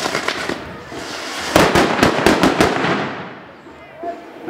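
A string of firecrackers goes off at a town festival for bakers and merchants in Patamban, a rapid run of sharp cracks that peaks mid-clip and then fades, with people talking around it.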